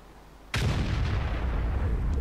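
A tank cannon fires once in the World of Tanks video game, a sudden loud boom that gives way to a sustained roaring rumble after a quiet start.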